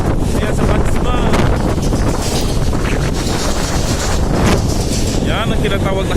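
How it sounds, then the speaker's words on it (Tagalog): Strong sandstorm wind in Majmaah, Saudi Arabia, roaring loud and steady at the microphone with constant buffeting, and a voice speaking over it at times. "Yan ang tinatawag na sandstorm."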